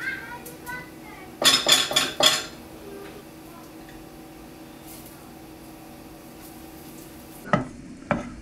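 Butter melting in a hot pan for chicken fettuccine Alfredo gives a soft, steady sizzle. A few sharp clinks of a utensil against the pan break in early, and more come near the end.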